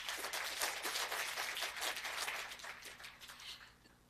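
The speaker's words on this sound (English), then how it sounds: "So might I please kindly ask that we just give our sponsors a round of applause again." A conference audience applauds sponsors, a round of clapping that swells and fades unevenly, heard from a distance with some voices mixed in.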